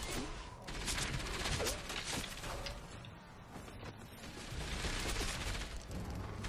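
Distant mech gunfire in Enslaved: Odyssey to the West, a continuous crackling volley that swells, dips mid-stretch, then builds again amid clanking mechanical noise and faint talk.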